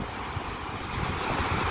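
Strong seaside wind blowing over a kitesurfing kite on the Lithuanian coast, a steady roaring rush with buffeting on the microphone and the wash of surf beneath, no voices.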